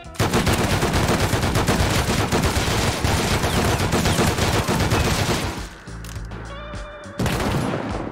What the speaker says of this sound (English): I'm gonna start shooting these motherfuckers.